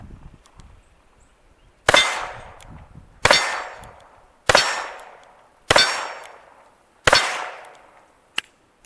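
Five loud, sharp gunshots from an Iver Johnson Safety Automatic .32 S&W revolver fired two-handed, evenly spaced about a second and a half apart, each cracking hard and ringing out in a decaying tail, with a smaller click after the last.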